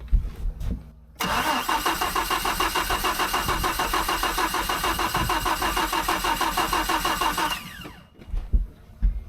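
A boat engine with its fuel pump connected cranks briefly, catches and runs loud and steady for about six seconds, then cuts out, leaving short clunks and knocks.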